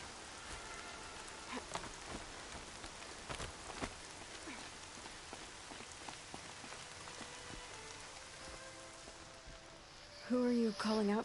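Steady rain falls throughout in the video game Horizon Zero Dawn, a dense even patter with scattered heavier drops, and a short tonal sound rises near the end.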